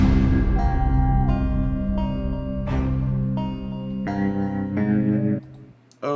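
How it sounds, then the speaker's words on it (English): Generative Wild West score built as an Unreal Engine Metasound: loud, layered plucked notes with sustained tones change every second or so, then cut off abruptly before a fresh onset at the end, with no speech. "It's this Metasound Western score that I built."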